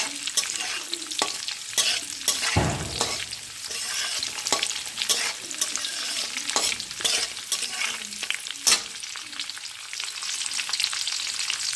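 Whole spices — black cardamom, green cardamom, cinnamon and cloves — stirred in hot ghee for plain polao, a steady frying crackle with repeated scraping strokes of the spoon, close and fairly loud throughout, no talking.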